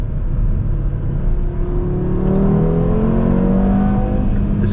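A 600 hp Audi TT RS engine with stock exhaust drones loudly from inside the cabin at night, its pitch climbing steadily as it accelerates, with a low rumbling road noise underneath.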